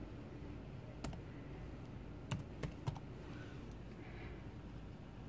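A handful of sparse, soft key clicks on a computer keyboard, with a few quick taps close together midway, faint against a steady background hum, no talking.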